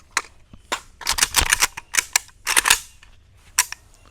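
A Palmetto State Armory AK-105 rifle fires a rapid, uneven string of sharp shots outdoors, with several quick doubles and a final lone shot after a pause.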